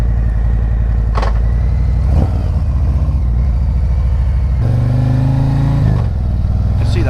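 A 2020 Harley-Davidson Street Glide CVO on the move gives a loud, continuous low engine rumble mixed with wind buffeting, rising in pitch as it accelerates through a couple of shifts.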